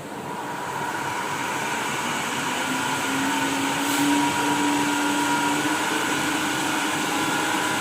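DC shunt generator machine spinning up from start and then running steadily, a loud continuous whirring hum that rises over the first second and holds, with a faint rising tonal whine in the middle.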